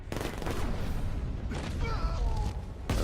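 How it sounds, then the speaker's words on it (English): Gunfire in the video game Batman Arkham Knight, a dense burst of rapid shots and booms throughout, with talking over the top. "I bet somebody heard those gunshots."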